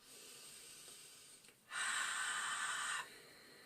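One deep ujjayi-style breath drawn in through the mouth, a close, hissing, constricted inhale lasting just over a second after a quieter airy lead-in.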